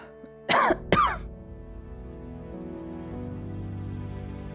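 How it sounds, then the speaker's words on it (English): A person gives two sharp, loud coughs close by, like a harsh throat clearing, then goes quiet under a steady background hum. "A cough does not sound healthy."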